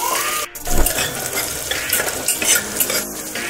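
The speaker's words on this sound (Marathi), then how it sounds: "एक दीड पळी तेल चांगले गरम झालेलं आहे, आता आपण जिरं टाकूया, तेजपात टाकूया, कट करून घेतला अद्रक लसूण आणि 2 हिरव्या मिरच्या त्या टाकूया" Cumin, bay leaf, ginger, garlic and green chillies sizzle in hot oil, with a steady crackling fry and a few stirring scrapes of a utensil in the pan.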